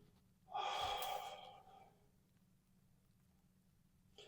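A single deep, audible breath taken during a slow neck and shoulder release exercise, a broad airy inhale of about a second that fades into quiet stillness, with a faint click at the end.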